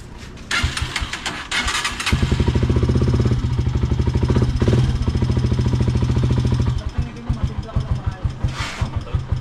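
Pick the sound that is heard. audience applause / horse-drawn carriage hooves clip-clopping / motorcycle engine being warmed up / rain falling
motorcycle engine being warmed up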